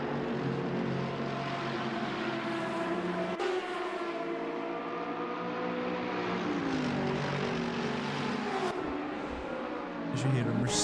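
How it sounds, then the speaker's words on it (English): Mercedes GT race car in a racing video game roaring past the camera, engine tones sweeping up and down in pitch as cars pass, layered with other engines and overlaid by commentary talk. "As you hear the Mercedes roar past the camera."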